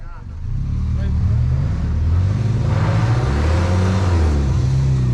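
An off-road vehicle crawls through an obstacle on the Frontenac Farms Avalanche Trail, its engine a loud, close, low drone that swells steadily while a voice calls out over it.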